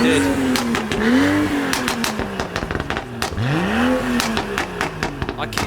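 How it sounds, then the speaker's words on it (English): Supercharged modified cars leaving a car meet rev hard in a series of rising and falling engine sweeps, loud and close, with sharp bursts, a brief tire squeal and crowd voices in between. "You can hear the supercharger."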